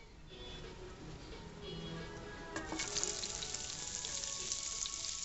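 Sliced onions and garlic fry in bacon grease, a faint, even sizzle that grows noticeably louder and more crackly partway through, with no talking.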